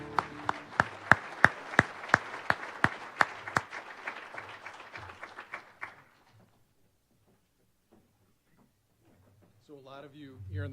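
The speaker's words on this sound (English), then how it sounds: "A round of applause for Scott Barr." Applause for an honoree at an alumni awards celebration, a series of sharp, evenly spaced loud claps with a murmuring crowd behind, dying out after about six seconds into near silence before a voice begins speaking.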